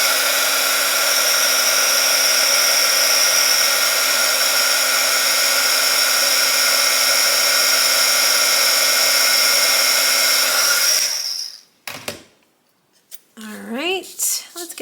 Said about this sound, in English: And get your heat tool,